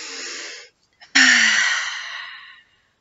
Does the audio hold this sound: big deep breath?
yes